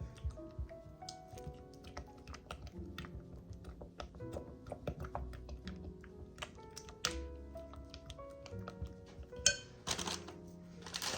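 Spoon stirring melting chocolate chips in a pot, with irregular light taps, clinks and scrapes against the metal, close and fairly quiet, no voices.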